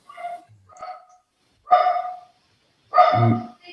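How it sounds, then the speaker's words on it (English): A pet dog at home barks repeatedly, giving a string of short yips and sharper, louder barks with brief silent gaps between them, close and clear with no talking. "we get to hear my dog for a second."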